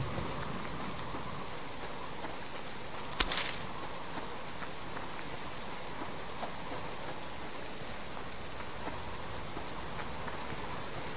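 Steady rain falling in the survival video game Subsistence, a constant even hiss with no speech, interrupted by one sharp click a few seconds in.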